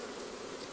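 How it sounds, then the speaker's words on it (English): Dense, steady buzzing of many honey bees close by during a beehive inspection, a continuous drone filling the short moment with no voices. "Well, there's 12 seams of bees."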